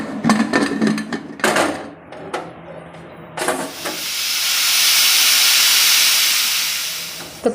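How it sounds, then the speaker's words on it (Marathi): A pressure cooker whistles while wheat kheer cooks: clattering and knocks first, then a loud, sustained steam hiss swells and holds for several seconds before cutting off. "आता हे कुकरमध्ये ठेवून मी 5 शिट्ट्या काढून घेणार आहे।"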